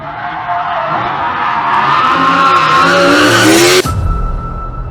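A car brakes hard and skids while drifting on a track. A loud, sustained tire squeal rises in pitch under engine noise, then cuts off abruptly, leaving a lower rumble.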